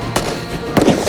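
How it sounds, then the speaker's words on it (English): Two sharp cracking gunshots, spaced under a second apart, ring out as a sound effect in a Western-style audio drama, loud and close against a faint background. "Gunfire began to rain down upon them."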